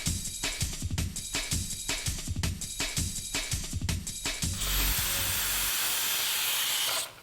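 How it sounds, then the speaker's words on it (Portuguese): Hot steam bursts from the release valve of a pressure cooker, first in rhythmic pulsing hisses, then as one loud, continuous hiss that stops abruptly. "Você pode colocar a válvula na posição de liberação de calor"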